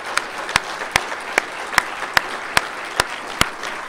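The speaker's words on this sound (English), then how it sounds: "give him a round of applause for his fabulous service" Slow, evenly spaced claps, about ten sharp hand strikes roughly half a second apart, at a foundation gathering honoring its departing president, clear over a quiet room hush.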